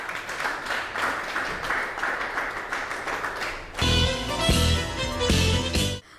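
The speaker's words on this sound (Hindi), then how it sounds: "तालियां बजती रहनी चाहिए इनके लिए।" Audience applause for a prize winner at a televised Indian farmers' quiz event, a steady crowd clapping that swells louder and denser partway through, with music joining, then cuts off.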